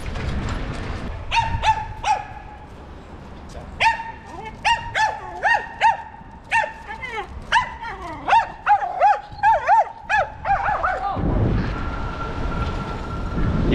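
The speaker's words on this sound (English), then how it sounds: "Italian dogs don't love graffiti riders" Several dogs bark repeatedly on a busy street in Italy, with sharp overlapping barks and yips in irregular bursts, loud and near, and a rumbling vehicle or train noise swelling at the end.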